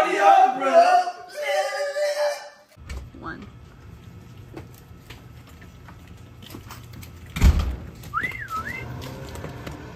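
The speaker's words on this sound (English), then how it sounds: "Whenever I whistle, she knows it's time to geocache." A person whistles a short rising-and-falling tune near the end, after a stretch of people talking and some clunking background noise in a geocaching outing.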